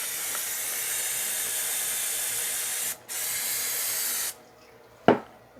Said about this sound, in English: I'm going to spray some more brake cleaner.